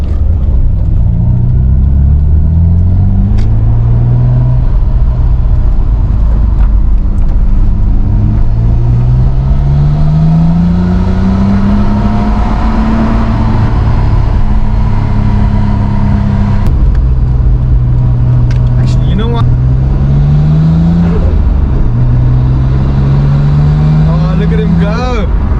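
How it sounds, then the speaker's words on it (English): A white Nissan R32 GTR engine warms up, giving a loud, steady rumble whose engine tones rise and fall in slow swells throughout. "Let the car warm up a little bit."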